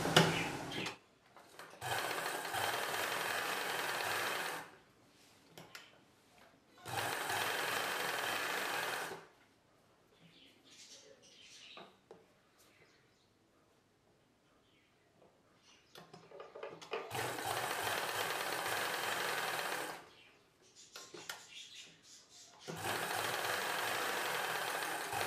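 A sewing machine stitches a cross-cut blouse in four separate bursts of rapid, steady whirring and clatter, with quiet pauses between them filled by faint fabric handling.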